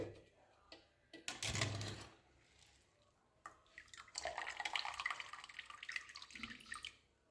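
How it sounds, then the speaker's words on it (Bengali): Blanched peas draining in a strainer, with bursts of splashing, running water and trickling drips interrupted by quieter gaps, near and moderately loud. "এইখানে রেখে দেবো জলটা যাতে ঝরে যায়"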